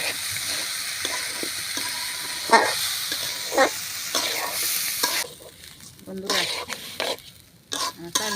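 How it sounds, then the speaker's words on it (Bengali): Rice for prawn pulao is stirred and fried in a pan, with a loud continuous sizzle, scraping spoon strokes and occasional clinks, then the sizzle quiets and drops away near the end. "এই যে চালটা দিয়ে পরিষ্কার করে নিছি দিয়ে দিলাম নেড়ে সেটা কষানো"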